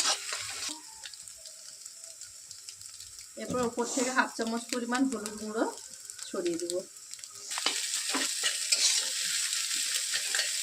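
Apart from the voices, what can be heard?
egg being scrambled and fried in a pan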